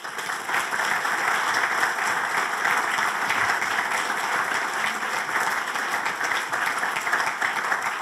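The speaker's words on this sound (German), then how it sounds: "Glückwunsch und Applaus hat unser Preisträger schon bekommen." Sustained applause from a large audience at a prize ceremony in a state representation hall, dense steady clapping filling the room at an even loudness throughout with no voices over it.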